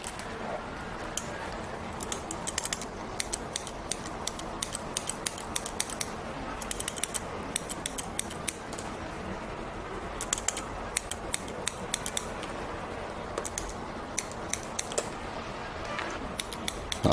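Scissors snip repeatedly through hair during a short haircut, producing crisp, close metallic clicks in irregular bursts over a steady low room background.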